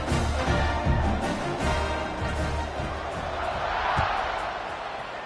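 A stadium crowd roars during a college football game between Temple and New Mexico, a dense, sustained wash of cheering and shouting at steady volume with no single voice standing out.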